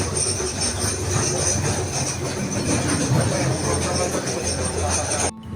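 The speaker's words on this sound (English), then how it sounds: "That's the Gloria elevator. It's a tram. It's a funicular." Gloria funicular tram in Lisbon rumbling steadily along its track with a continuous rail and wheel noise, close and loud throughout, fading abruptly near the end.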